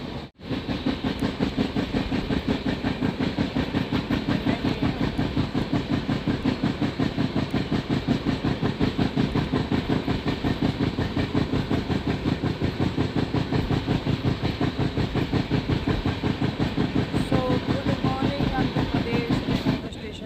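A passenger train on an Indian route rolls steadily along the rails, its rapid, regular clickety-clack and deep rumble filling the space from inside the carriage without pause.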